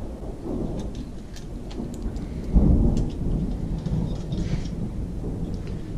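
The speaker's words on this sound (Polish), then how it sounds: "Burza jest to." A thunderstorm with steady rain falling and a loud thunder crack rolling in midway, followed by continued rumbling under the rain; no talking.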